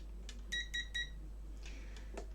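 Short electronic beeps from a multimeter in continuity mode during a check of a JVC UX-D150 valve audio amplifier that has no power; three quick tonal beeps in a row, then fainter tones, over a steady low hum.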